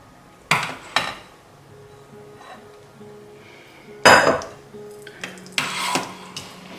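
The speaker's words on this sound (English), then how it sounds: "So you're gonna just spoon some into the sieve." Pumpkin soup being ladled into a metal sieve: sharp clinks and scrapes of a spoon against cookware come in short bursts, one louder clatter in the middle, with quiet gaps between.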